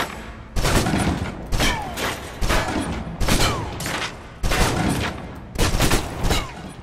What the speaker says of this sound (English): Now, let's move on to the submachine gun. Now let's empty the clip.